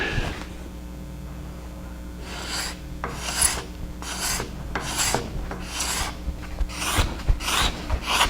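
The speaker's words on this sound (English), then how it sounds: "In order to take it all the way down to the surface of the cherry, I'm going to use a card scraper." Card scraper drawn across a cherry wood picture frame surface in a Greene and Greene style, producing a series of about ten close, rasping scrape strokes in a steady rhythm over a low background hum.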